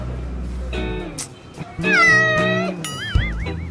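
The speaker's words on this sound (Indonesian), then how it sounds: "Kucing siapa nih?" A cat meows loudly and close by, several drawn-out, wavering calls with a steady hum and background noise underneath.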